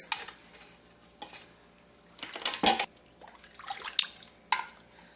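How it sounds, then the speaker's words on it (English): Tomato and herb broth strained through a coffee drainer, with liquid dripping and trickling, light clinks of the strainer against the pot and soft scraping stirs in quick irregular bursts. "So I use this to drain the tomatoes and all the herbs"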